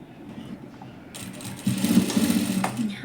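A sewing machine stitches tucks on a blouse, starting after a quiet moment and then running in a steady rapid whir with slight variations in speed, near and clear.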